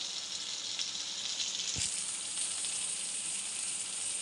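Spices frying in hot oil for a radish and small fish dish, a steady loud sizzle with a brief clatter partway through.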